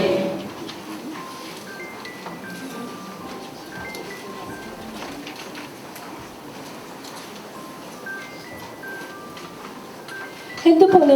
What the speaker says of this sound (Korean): 핸드폰이 지금 막 울리고 있네요